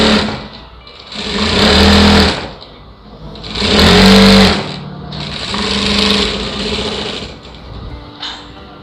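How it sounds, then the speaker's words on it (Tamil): Sewing machine stitching a lined blouse seam, running in three or four bursts of rapid mechanical whirring that each last a second or two, separated by short pauses, close and fairly loud. "அடியில் வந்து ராங் சைடு 1/2 இன்ச்சு கேப்பில் இந்த தையல் போட்டுக்கலாம்."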